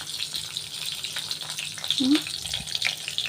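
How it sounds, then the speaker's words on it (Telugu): Brinjals fry in a pan with a close, continuous sizzle and light crackling, along with occasional clinks and stirring. "ముందు మనం కాసిన వంకాయలు వేసుకుని ఇవి వేగిపోయిన తర్వాత ఇప్పుడు మళ్ళీ మిగిలిన వంకాయలు వేసుకోవచ్చు"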